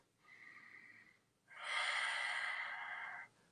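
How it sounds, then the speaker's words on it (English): Slow, audible breaths: a shorter nasal inhale, a pause, then a longer, louder airy exhale through the mouth, close and alone. "Make it so you can hear yourself breathing."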